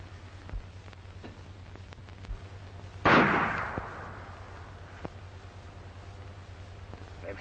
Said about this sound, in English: They've stopped firing.